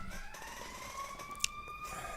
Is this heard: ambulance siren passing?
yes